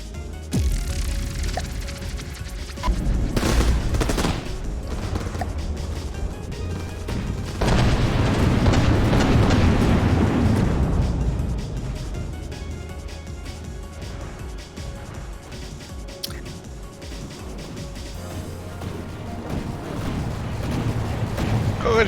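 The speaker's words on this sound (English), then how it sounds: "Alright, so we ready for another bout with the trebuchet?" Heavy trebuchet shots and impacts boom through a ship battle in From the Depths against a Saturn class dreadnought, a series of loud, rumbling blasts with a big swelling burst in the middle over continuous battle din.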